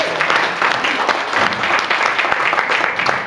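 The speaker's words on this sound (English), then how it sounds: "please give me a round of applause for Rachel" Wedding reception guests at Disney's Yacht Club Resort applauding together, a dense, loud burst of clapping from a crowd that stays steady for a few seconds with no talk.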